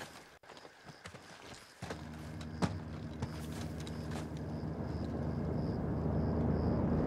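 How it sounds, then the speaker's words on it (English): A helicopter approaches during a prison break mission in Call of Duty Modern Warfare, its low rotor drone swelling steadily and growing louder, with a few sharp cracks and clicks earlier on. "Got a heli incoming."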